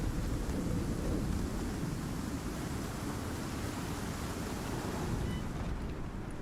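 A tier 3 thunderstorm in the survival game Icarus, pouring as a steady dense roar of rain and deep storm rumble, loud and constant with no distinct claps, heard alone without speech.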